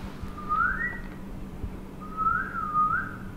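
A person whistles two short rising-and-falling tones with a pause between them, fairly soft over a low steady background hum.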